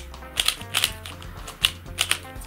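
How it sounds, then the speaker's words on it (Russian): Clicky plastic turns of a cheap Fanxin magnetic 3x3 speed cube with weak magnets and anti-pop protection, a quick run of sharp, fairly loud snaps close up with no talking. "Видим, что куб достаточно громкий."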